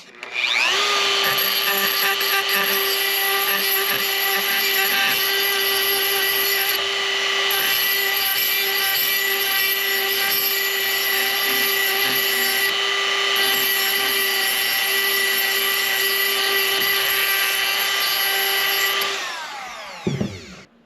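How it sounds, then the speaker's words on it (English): A Dremel rotary tool files and chamfers the inside of a cut Nortent Gamme 8 black tent pole tube, giving a loud, close, steady high whine with grinding rasp that holds for about twenty seconds before spinning down. "So now I just want to chamfer or file the inside of this tube, just so it doesn't have any sharp points. I've changed the bit on my Dremel."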